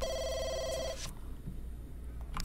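A telephone rings in The Sims 2 with a sharp trilling electronic ring that stops after about a second, leaving quiet game background sound with a few faint clicks.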